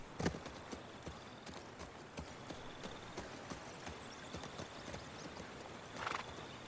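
A horse in The Last of Us Part II, balking at a jump, clip-clops steadily on hooves while snorting and whinnying; a louder whinny comes at the start and another near the end, over a low game background.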